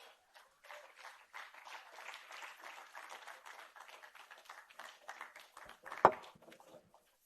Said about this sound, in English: Please, it deserves a better round of applause, colleagues.